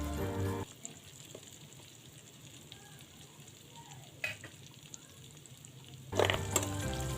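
Garlic and onion sautéing in a pan for Ilocano-style dinuguan, a constant close sizzle with a few sharp stirring clicks and a louder burst of frying near the end.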